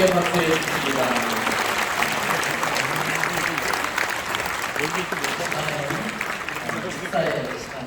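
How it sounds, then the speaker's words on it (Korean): An audience at a Korean church general assembly event claps warmly and steadily throughout, a dense wash of applause with a few voices and faint speech threaded underneath. "다시 한번 뜨겁게 박수해 주십니다"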